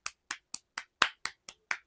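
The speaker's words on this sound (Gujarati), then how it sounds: "બહુ મોટી વાત કે, તાળી પાડી દો." About eight single hand claps ring out in a steady, even rhythm, close and fairly quiet, with no talk over them.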